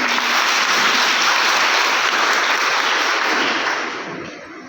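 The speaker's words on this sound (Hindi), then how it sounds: "अपने लिए ताली बजाइए" Nursing students applaud themselves in a room, a dense, even burst of many hands clapping together that holds steady, then thins and fades over the last second.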